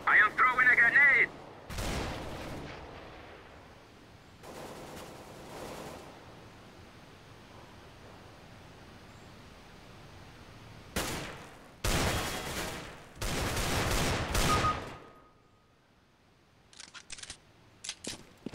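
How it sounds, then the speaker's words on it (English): In CS:GO, a flashbang and a grenade go off as several loud, sharp broadband bursts, the heaviest clustered together late in the clip, with quieter game noise and brief crackles around them. "Throwing a flashbang! I am throwing a grenade!"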